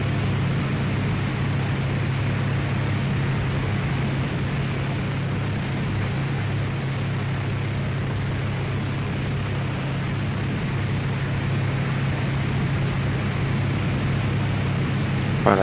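An airliner in the X-Plane 11 flight simulator, a KLM flight on the takeoff roll, heard as a steady, loud broadband engine roar with a constant low hum that holds without pause.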